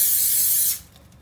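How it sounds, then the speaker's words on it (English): Cooking oil spray hisses onto a raw chicken on a roasting rack, one steady close burst lasting under a second before cutting off, with no talk. "spray it with oil"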